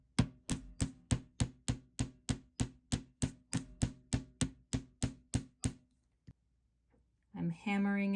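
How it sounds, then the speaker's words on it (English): A hammer strikes copper wire on a hard surface, flattening it for pearl bead earrings: about eighteen sharp, evenly spaced metallic taps in a steady rhythm, close and clear, then a lone tap and a short voice at the end. "I'm going to hammer both,"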